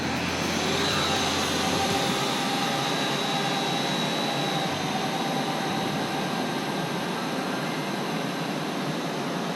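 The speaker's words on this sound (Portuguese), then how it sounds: "Para cima a gente inicia os motores e inicia o voo." A Syma X8HG quadcopter, a DJI Phantom clone, flies outdoors with its motors giving a steady, close, high-pitched whine and airy buzz that holds throughout without pauses.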